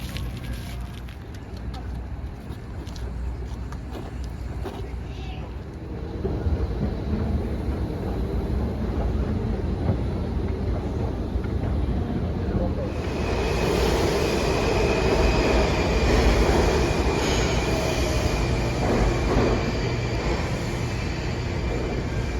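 A Washington DC Metro train rumbles steadily, growing louder and fuller partway through, with a faint high whine and clattering wheels over the deep roar.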